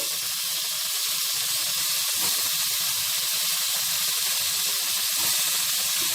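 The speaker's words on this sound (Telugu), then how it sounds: "ఈ బంగాళాదుంప ముక్కలు వేగే లోపల ఆ ఉల్లిపాయ ముక్కలు కూడా ఫ్రై అయిపోతాయి" Potato pieces and onion pieces fry in a pan with a continuous loud hiss and sizzle, a steady bubbling crackle that holds evenly throughout.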